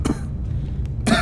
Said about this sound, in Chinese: 不要有那种多余的咳嗽声音，好不好？